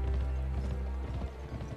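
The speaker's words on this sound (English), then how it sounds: "I'm riding my horse too hard?" Horse hooves galloping in the video game Gun, a steady close clip-clop rhythm over a low rumbling game soundtrack.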